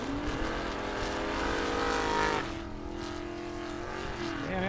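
Drag race cars, including a Chevrolet Camaro, roar down the strip in a loud sustained engine drone that drops in pitch partway through, then holds at a lower steady tone.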